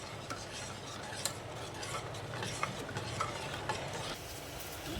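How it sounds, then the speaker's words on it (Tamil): Jaggery syrup being stirred into colostrum milk, a steady close scraping and swishing of a spoon in a vessel with soft clinks, continuous for several seconds with no talking. "இப்போ இந்த நல்ல வெல்லம் வந்து கரைஞ்சிக்கிட்டோம். அந்தளவுக்கு நல்லா மிக்ஸ் பண்ணி எடுத்துக்கலாம்."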